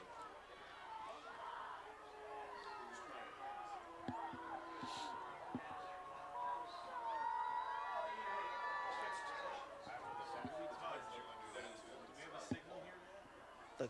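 A restless crowd in the stands at a high school football game between the Utica Chieftains and Farmington keeps up a murmuring babble with scattered shouts and whistles, swelling midway, while voices talk nearby.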